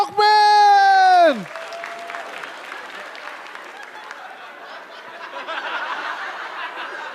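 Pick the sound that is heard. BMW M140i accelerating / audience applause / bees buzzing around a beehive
audience applause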